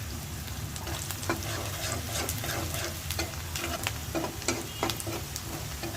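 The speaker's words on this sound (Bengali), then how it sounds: "আমার পেঁয়াজটা একটু ভাজা হয়েছে।" Onions frying in a pan for a meat bhuna, with a dense sizzle and repeated scraping of a spoon stirring through them, close and continuous.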